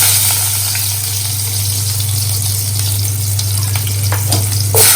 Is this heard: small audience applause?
no